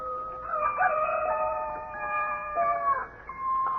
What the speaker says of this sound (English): beckoned by a rooster somewhere, doing his thing